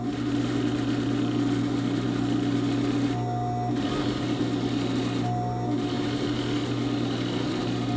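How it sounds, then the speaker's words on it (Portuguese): A sewing machine stitches fabric for a straight skirt with a ruffle, a steady fast mechanical whir broken by two short pauses, close and with no talking. "E só costurar sem dar o retrocesso no início."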